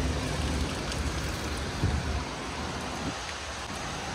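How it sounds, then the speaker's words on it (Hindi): Steady rain falling in Medina, a continuous broad hiss of drops with a faint passing rumble, heard at moderate level without voices. "देखें मदीने में बारिश हो रही है"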